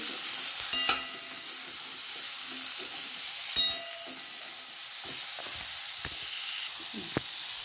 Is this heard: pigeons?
no